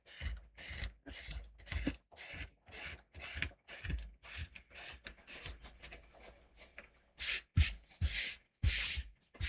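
Watercolour paint being rubbed off paper: a series of short, dry scrubbing strokes in a steady back-and-forth rhythm, close and moderately quiet, with a few louder, harsher rubs near the end.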